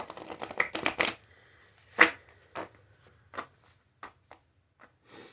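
A tarot deck split and riffled, a quick burst of flicking cards followed by a sharp slap and then a few sparse, softer taps as cards are laid down, close up and with no speech.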